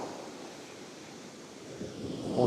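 Rough sea churns with waves surging beneath gusty wind buffeting the microphone, a low rushing wash that swells louder toward the end.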